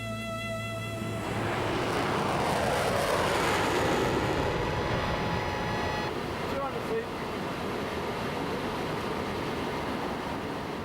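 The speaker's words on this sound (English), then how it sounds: "30 miles out from New York, the pilot lowers the nose cone ready for landing." Concorde supersonic airliner descending toward New York with its nose cone lowered for landing, a loud continuous jet engine roar with a sweeping whine that persists throughout, heard alone without talk.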